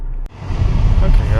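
A 2018 Honda Accord with a 1.5L turbo engine, faulted with stalling, poor acceleration and running rich, pulls out on the road; a low, steady engine and road rumble rises after a brief dip, heard from inside the cabin.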